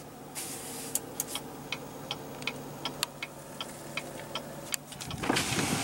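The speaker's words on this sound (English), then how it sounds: "Automatic driver's side window." In a 2016 Chevrolet Tahoe Z71 with a 5.3 L V8, a steady ticking of the hazard lights runs through the clip, then the driver's side power window motor starts with a brief, louder whirring hum at the very end.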